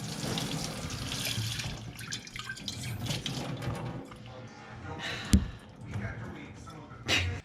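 Water pours from a kitchen sink faucet in a steady, splashing rush, with a few sharper drips and knocks, while people talk over it nearby.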